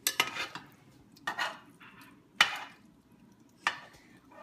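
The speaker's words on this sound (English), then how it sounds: "I'm just gonna mix it around so it coats all the noodles, so the sauce coats all the noodles into all of the shrimp" Noodles and shrimp being stirred in sauce, with a utensil scraping and clinking against the bowl in four or five separate sharp strokes. It sounds close and clear, with quiet pauses between strokes.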